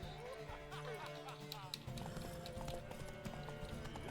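Horse hooves clip-clop at a galloping pace in The Witcher 3 video game, a steady quick rhythm set among game music and ambient tones, with a brief whinny and voices speaking over it.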